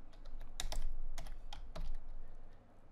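Keys clatter on a computer keyboard as C# code is typed, a few quick clusters of crisp clicks with brief pauses, close and clear with no talking.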